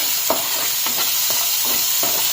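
A steady sizzle of onions frying in a pan, broken by a few soft scrapes of stirring.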